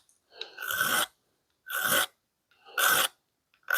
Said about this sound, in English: just clean some of this up with some files